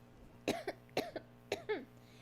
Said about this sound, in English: so as I cough